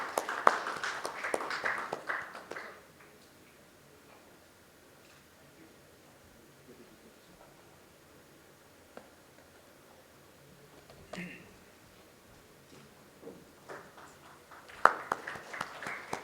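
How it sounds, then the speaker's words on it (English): Applause for panel speaker Mr. Jain at a digital marketing panel discussion comes in two short bursts of clapping, one at the start and one near the end, with a long quiet stretch between. "A big round of applause to Mr. Jain for his wonderful contribution in the panel."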